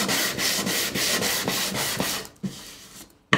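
Sandpaper of 220 grit rubbed by hand across a wooden surface before woodburning, a steady run of close, rhythmic scratchy strokes that stops partway, followed by a couple of brief handling sounds.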